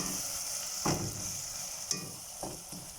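Spices and turmeric frying in a pan for dhaba-style chana dal, a steady soft sizzle with a few clinks of stirring, close and moderate, no voices.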